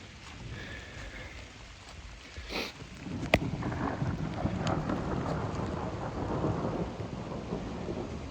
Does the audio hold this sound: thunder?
yes